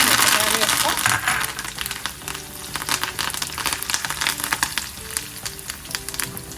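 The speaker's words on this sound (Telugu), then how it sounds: "ఈ కరివేపాకు వేగినంతట్లనే మిరపకాయలు కూడా వేగిపోతుంది" Curry leaves and chillies frying in hot oil for a chutney tempering, a close crackling sizzle with sharp pops that is loudest at the start then settles into a steady fry, with a voice talking faintly over it.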